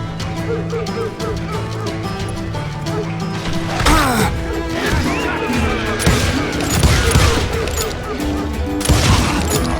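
Gunfire in Call of Juarez Gunslinger on Xbox 360 cracks out in scattered bursts and impacts amid a busy mix of music and game effects.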